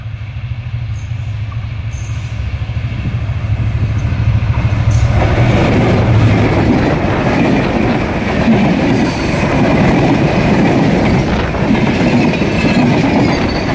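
An intercity express train on a Bangladeshi line passes close by, a steady loud rumble swelling after a few seconds into dense wheel clatter and rail noise that fills the whole stretch.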